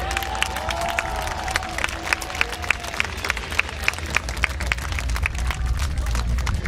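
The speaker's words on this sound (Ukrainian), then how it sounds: "Аплодисменты!" Crowd applauding at a gathering about winged hussar cavalry, steady dense clapping with scattered sharper claps, a voice ringing out early on and a low rumble beneath.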